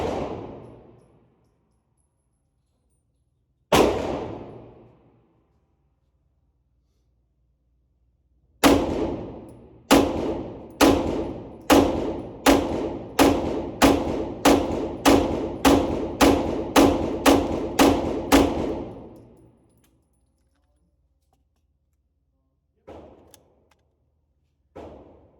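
A CZ Shadow 2 Compact pistol fires a couple of separate sharp shots, then a rapid string of about a dozen evenly spaced loud reports, followed by a few faint clicks with no talking.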